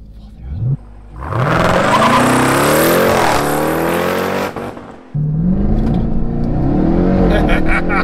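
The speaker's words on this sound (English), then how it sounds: "Okay, brake. Launch. Full throttle." A 2020 Jeep Grand Cherokee Trackhawk launches at full throttle: loud rising engine roar with whine building through gears, a brief drop around a shift, then more hard acceleration, with a voice briefly over it.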